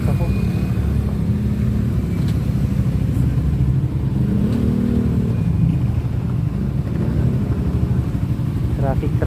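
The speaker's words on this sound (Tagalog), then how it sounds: "Traffic na mga ka-taker dito sa sentro" Dense city-centre traffic of cars and motorcycles makes a steady, loud low rumble of engines, with occasional revving swelling through the continuous wash of road noise.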